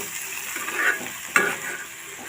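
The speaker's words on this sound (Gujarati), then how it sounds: "તો મસાલાને મિક્સ કરી લેશું।" Spices, including coriander-cumin powder and garam masala, are stirred in hot oil for a dal fry tempering, giving a soft steady sizzle with a couple of brief scraping stirs of the spoon and no voices.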